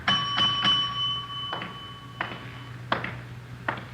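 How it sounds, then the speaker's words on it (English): A bell rung at an unattended hotel front desk, giving several bright, short dings spaced irregularly over a low steady hum, fairly faint and with no one speaking. "Nobody at the desk. I'll ring the bell."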